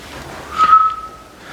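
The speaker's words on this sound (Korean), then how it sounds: "휘파람 어떻게 불어?" A single person's whistle rings out, one short steady high note lasting about half a second over faint room hush, with no talking.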